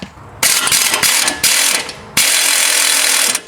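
A ratchet with a 17 mm socket loosening a front strut nut on a 2013 Honda Pilot, heard as several close, loud bursts of rapid clicking separated by brief pauses.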